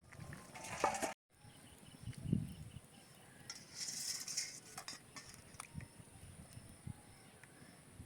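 Boiled new-harvest taro being stirred in a pot with cumin paste, giving soft scraping and clinking of a spoon against the metal, brief wet stirring sounds and a short pause, all fairly faint with no talking.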